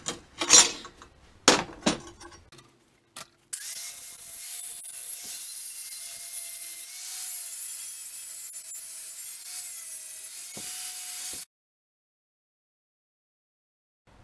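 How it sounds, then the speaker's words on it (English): Metal is ground on a homemade can crusher being repaired, a steady, moderately loud abrasive whir lasting several seconds, preceded by a few knocks and scrapes, then cutting off to silence. "Right, some grinding."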